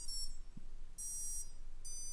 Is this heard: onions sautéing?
no